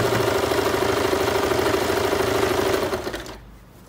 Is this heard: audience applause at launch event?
no